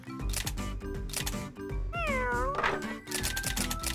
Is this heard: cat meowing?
yes